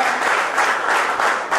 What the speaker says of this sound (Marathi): मित्रांनो पुन्हा एकदा जोरदार टाळ्या वाजवा